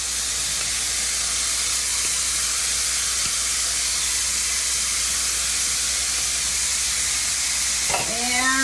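Diced green and red peppers hit a hot frying pan for jambalaya, a loud continuous hissing sizzle dominating throughout, with a brief clatter near the end.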